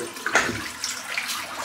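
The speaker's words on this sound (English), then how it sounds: "So let's fill up the bowl" Tap water splashes into a shaving bowl before lathering, with a brief louder gush near the start and then a steady running trickle, close and alone.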